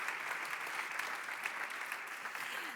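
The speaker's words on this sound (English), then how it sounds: "A round of applause to Christophe." Audience applause at an award ceremony honouring role models, a steady dense clapping from a crowd that continues evenly throughout.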